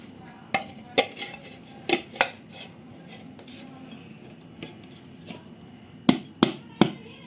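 An eggless Oreo chocolate cake, cooled fully, is turned out of its pan: a series of sharp metallic knocks and taps, isolated clacks spaced unevenly with a final cluster of three close raps, over a quiet room.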